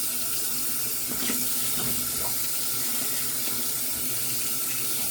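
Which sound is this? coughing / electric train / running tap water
running tap water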